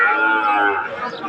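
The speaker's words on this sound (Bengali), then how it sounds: "গাভী বাছুরগুলো" A Sahiwal cow or calf at the Ambari cattle market in Dinajpur gives one loud, close moo that lasts about a second and is heard on its own.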